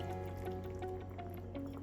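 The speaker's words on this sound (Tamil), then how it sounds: "தேவையான அளவு தண்ணி சேர்த்துக்கலாம்" Water is poured into a green chicken curry (hariyali chicken) as it cooks, a steady liquid fill and trickle with faint dripping that holds close and continuous for about two seconds.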